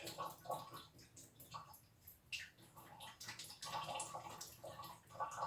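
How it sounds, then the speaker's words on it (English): Water shaken out of a Kangen water filter splashes and drips into a bowl in quick, irregular bursts of spatter, fairly close and soft. "So I'm just gonna shake some of the water out."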